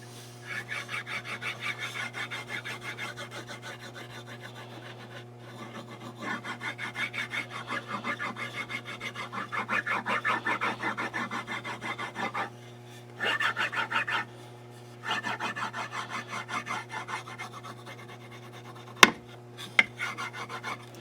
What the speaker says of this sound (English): So I'm just going to go over the whole stock with this and just get those fibers pressed